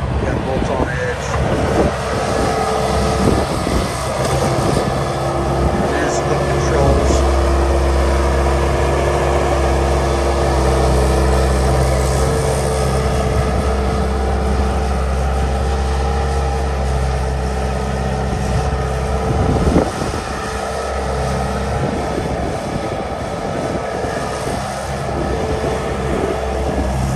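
A 2004 Bobcat S250 skid loader with a big, stout bucket and bolt-on edge pushes snow. Its engine drones loud and steady throughout, with a brief clank about two-thirds of the way through.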